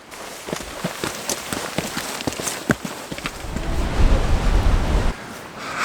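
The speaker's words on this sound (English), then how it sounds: "the winds come in, the rains come in" Rain and gusting wind outdoors on a stormy day give a steady hiss with scattered patters and sharp taps, swelling into a louder rushing roar near the end.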